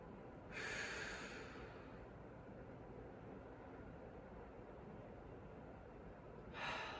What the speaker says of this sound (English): Couple deep breaths.